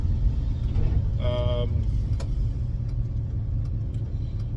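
A 1966 Chevrolet Bel Air wagon drives along with a steady, loud low engine rumble and road noise throughout, with a brief tonal chime or horn-like sound partway through.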